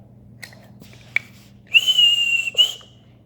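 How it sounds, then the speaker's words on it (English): A train guard's whistle at a railway goods yard gives a few short chirps, then one sharp sustained shrill blast and a final quick toot, loud and close over a low background hum. "The guard blew his whistle and Percy was off."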